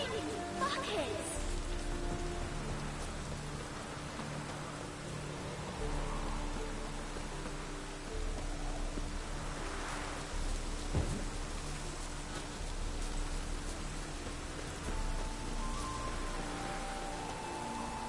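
Heavy rain in The Witcher 3 hisses in a constant broad downpour throughout, with faint rumbles and occasional soft voices beneath the steady wash.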